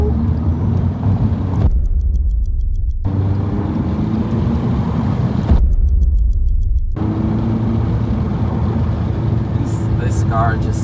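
A 180HP VW Scirocco driven fast on a sunset road drive, with a loud, steady roar of engine and road noise that cuts out twice into near-quiet for a second or so before returning.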